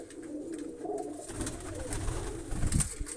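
Pigeons coo steadily while being fed grain, soft low murmuring calls layered over a busy outdoor background, with a brief flutter or rustle near the end.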